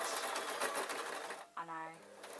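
Sewing machine stitching a baby's kilt fabric with an elastic waistband, a brief close mechanical whir under a talking voice, then settling into a steadier hum near the end.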